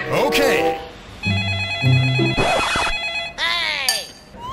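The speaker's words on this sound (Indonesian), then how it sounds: "Kiara, tolong angkat teleponnya, Kiara." A telephone bell rings in bursts of repeated metallic trilling, alternating with loud speech and sound effects in a comedic parody drama about a kidnapping rescue.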